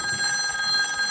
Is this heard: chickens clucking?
no